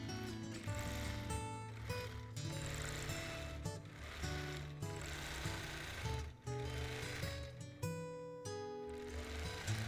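Quilting machine stitching a custom mountain-themed quilt, a steady mechanical whir with fast rhythmic needle chatter that rises and dips, running continuously and fairly close.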